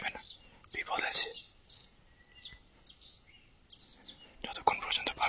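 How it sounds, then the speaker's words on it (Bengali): Birds sing in dense forest at Kalipokhri lake, Senchal, toward evening: scattered faint chirps and trills over a soft insect hum, with a hushed whispering voice at the start and end. "আর পাখি এখনো গান গাইছে"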